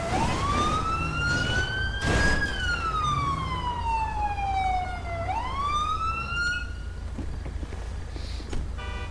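A police car siren in the LSPDFR police mod for Grand Theft Auto V wails nearby, its pitch sweeping slowly up and down before winding down and cutting off, with a faint engine hum underneath.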